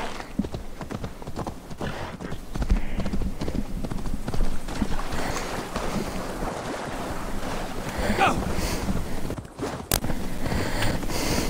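Hooves clip-clop steadily at a trot from a horse in the Assassin's Creed Valhalla video game, close and continuous over wind and water ambience, with no talk.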